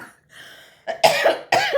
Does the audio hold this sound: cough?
yes